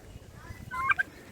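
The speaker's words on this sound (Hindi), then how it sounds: "टर्की का भी पालन करके" A faint, brief gobble comes from turkeys on a turkey farm, heard over low background rumble.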